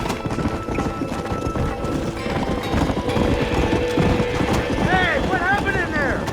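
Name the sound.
horses galloping in video game Red Dead Redemption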